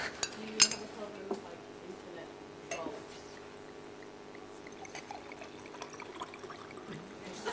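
Water is poured into a glass at a conference panel table, a soft trickle under clinks of glassware and occasional quiet voices in a large room.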